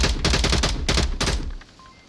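Loud bursts of rapid gunfire from a competitive match in the VR shooter Onward: several close, clustered volleys in quick succession, then cutting off into quiet.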